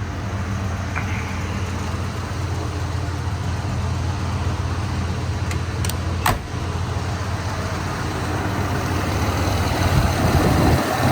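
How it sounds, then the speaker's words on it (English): A 1983 Jeep Wagoneer Limited with a single exhaust sits idling, its engine giving a steady low hum that holds even throughout, with a couple of brief clicks partway through. "Engine runs great, just the way it should."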